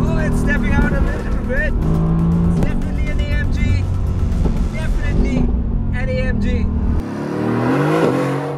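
A Mercedes-AMG GT R sports car is driven hard around a race circuit, its engine roaring loud and close with shifting revs throughout, while a person talks over it.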